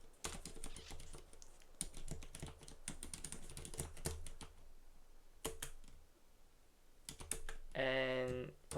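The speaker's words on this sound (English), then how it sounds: "we can like also type the python pty spawn command" Rapid typing on a computer keyboard during a terminal session, with bursts of close, crisp keystrokes separated by short pauses, ending in a brief tonal beep.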